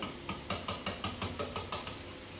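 Eggs beaten in a bowl with a wire whisk: quick, steady, regular metallic clinks against the bowl, about four strokes per second, close and clear, each tapping off briefly, with no talking.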